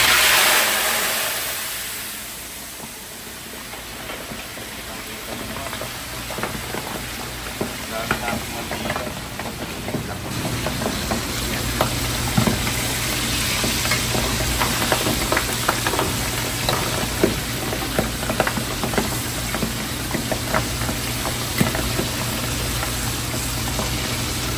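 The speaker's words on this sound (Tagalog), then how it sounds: "Pipirito natin itong bangus." Milkfish (bangus) frying in plenty of cooking oil, a steady close crackling sizzle with dense spattering pops that grows fuller after the fish goes in, continuing without talk.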